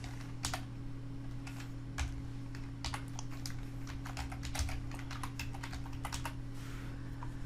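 Rapid typing on a computer keyboard while entering a database password, with bursts of quick, close key clicks over a steady low electrical hum.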